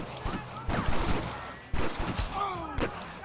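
Gunfire in Red Dead Redemption, set in a St. Denis backyard: several sharp, loud shots in quick succession over about three seconds, with some echoing thuds between them.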